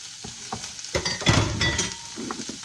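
Marinated steak and mushrooms sizzling in a hot pan for a ginger beef stir-fry, a close steady crackle with a few stirring scrapes and clinks from the utensil.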